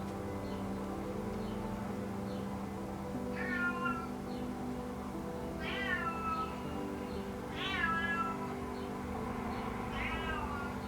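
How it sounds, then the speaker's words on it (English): A cat meows four times at fairly even intervals, each call rising and falling, over a constant low mechanical hum. "That's a cat meowing."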